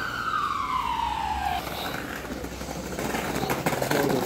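An ambulance siren wails in a falling tone and then continues more faintly amid street traffic in Belgium, moderately distant.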